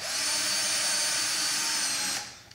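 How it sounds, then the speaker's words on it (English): A power drill whirs steadily at close range for about two seconds, driving the screw of a Leviton USB wall outlet during installation, then winds down and stops abruptly. "I can come back with a drill and tighten it down."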